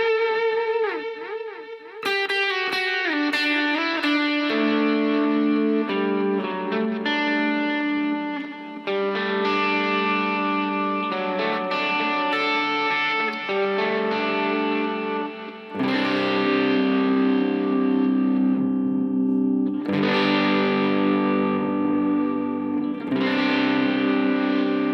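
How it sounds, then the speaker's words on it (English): A guitar played through a Headrush Time Warp delay effect placed after the amplifier model, distorted chords and single notes ringing out with repeating echoes, loud and continuous. "since it is pretty much a delay sound, let's put it after the amplifier"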